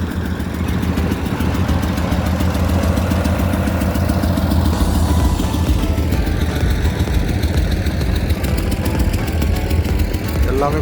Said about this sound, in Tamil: இன்ஜின் எல்லாம் பயங்கரமாக இருக்குது.